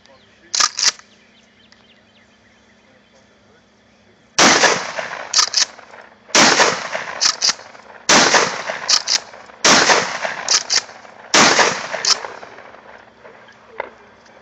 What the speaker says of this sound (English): I'm just going to shoot through